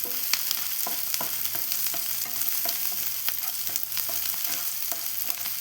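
Small onions sauté in a hot pan with green chilli, garlic and ginger for a Kerala pappadam curry, giving a steady close sizzle broken by scraping stirs, with no talking.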